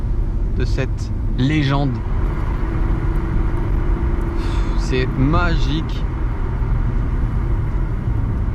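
An Audi TT MK1 with the 3.2 V6 drives along with a steady, loud engine rumble, while someone talks over it at intervals.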